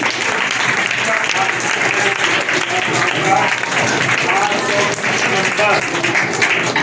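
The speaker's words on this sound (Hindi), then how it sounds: "मैं जोरदार ताली के साथ बुलाना चाहूँगा मंच पर प्रथम स्थान के लिए क्लास 7 में दीपिका भारती" Strong, sustained applause fills a school annual result ceremony hall as a first-place class 7 prize winner is called to the stage, a thick, even clapping roar that continues for about seven seconds, with a few voices faintly heard underneath.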